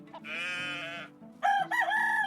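Roosters crow in the Medieval Dynasty video game, with two or three drawn-out cock-a-doodle-doo calls close by and fairly loud, set over a steady low hum.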